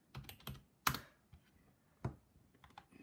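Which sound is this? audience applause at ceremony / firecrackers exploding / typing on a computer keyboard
typing on a computer keyboard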